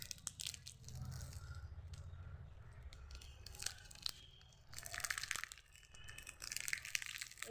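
A Kinder Cards chocolate wrapper is torn open and crinkled close up, giving a continuous run of tearing, rustling and crunching noises with no talking.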